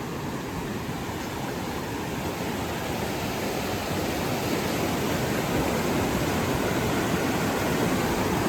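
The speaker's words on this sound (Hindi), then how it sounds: "यहाँ का पानी का फ्लो काफ़ी ज़्यादा है" Strong, fast-flowing stream water near Jim Corbett roars steadily and loudly from start to finish, a dense broadband rush with no voices over it.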